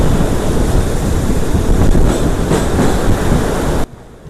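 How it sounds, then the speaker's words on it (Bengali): A passenger train, the Kolkata to Haldibari express, rumbles steadily across the long Farakka Barrage bridge over a wide river, a loud continuous roar of wheels and wind with faint rhythmic clatter, cutting off sharply near the end. "যখন ট্রেন এই ব্রিজের ওপর দিয়ে যায়, নদীর বিশালতা, হাওয়ার শব্দ আর ট্রেনের ঘর আওয়াজটা কানে খুব অন্যরকম লাগে"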